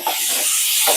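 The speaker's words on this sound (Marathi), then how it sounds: "आता टोमॅटोला छान करून घेऊया आपण, तेलामध्ये फ्राय करूया." Tomatoes frying in hot oil in a pan, a steady bright sizzling hiss with brief swells at the start and end, close and alone.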